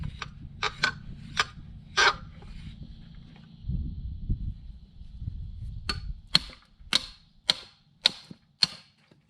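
A pulley on worn-out bearings spins with a steady low rumble, broken by sharp, loud clicks and ticks that come in a rough, quickening rhythm toward the end.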